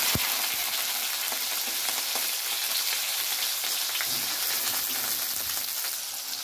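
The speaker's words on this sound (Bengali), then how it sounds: "টমেটো ভাজা হয়ে গেছে" Tomatoes and whole spices frying in hot oil, a steady dense sizzle that holds evenly for several seconds with small crackles and pops, close and continuous without talk.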